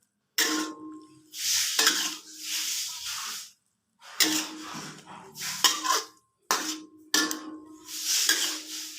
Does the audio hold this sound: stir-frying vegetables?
yes